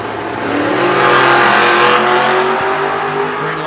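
A first-gen Camaro and a wagon launch side by side at a drag race, engines revving hard and roaring loud and close, swelling in pitch and volume as they pull away.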